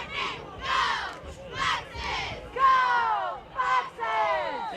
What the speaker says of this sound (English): the cheerleaders trying to get some life back into this Foxes crowd